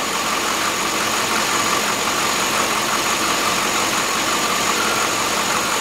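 A Corvette engine idles quietly and steadily, running smooth with no piston slap, a close, even hum holding at a constant level throughout with no voices.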